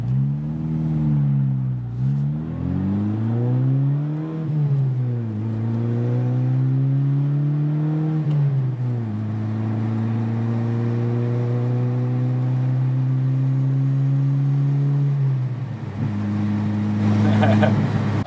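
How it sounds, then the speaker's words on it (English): A Ford Fiesta's aftermarket exhaust burbles and rises through the revs, with several climbing and settling engine notes and a long steady drone heard from inside the car, loud and continuous, with a short rev at the end. "I like the note on that exhaust."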